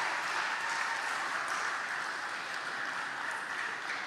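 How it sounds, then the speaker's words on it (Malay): Students at a literature and culture workshop give a round of applause, a soft, continuous wash of many hands clapping heard from a distance with no talking. "Adik-adik semua, tepuk tangan untuk diri adik-adik yang hadir ni."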